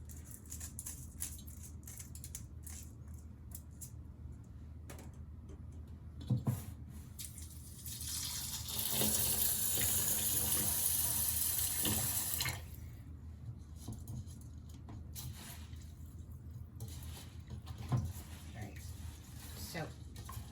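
Tap water running into a bowl while rice is rinsed, a steady splashing rush that swells for a few seconds amid softer drips and handling noises, close by.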